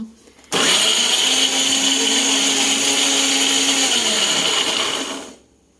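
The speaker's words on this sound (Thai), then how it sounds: "เดี๋ยวเรามาทำการปั่นเครื่องกันก่อนนะคะ" A blender grinds curry paste ingredients, whirring loudly and steadily for about five seconds, its motor pitch dipping slightly near the end before cutting off abruptly.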